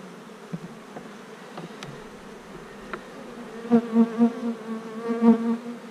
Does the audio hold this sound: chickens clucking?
no